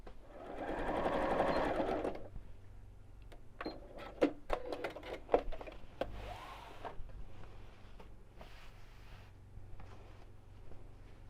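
A sewing machine runs a steady burst of stitching through pleated plain fabric for a reversible bag, loud and close for about two seconds, followed by clicks, handling taps and fabric rustle.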